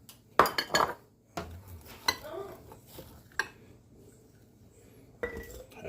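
Utensils scoop venison for stew in a pot, giving scattered metallic clinks and scrapes in a quiet kitchen with a few soft knocks between them.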